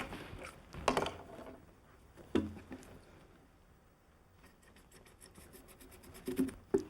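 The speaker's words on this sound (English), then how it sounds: "Then cut it off with a knife." A knife cuts through a cord wrapped in tape, producing a few short, quiet scraping and sawing strokes separated by near silence, with no talking.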